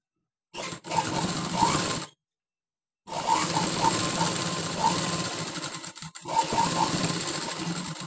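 A sewing machine stitches a blouse in fast, continuous mechanical whirring bursts, stopping for about a second before starting again, close and fairly loud.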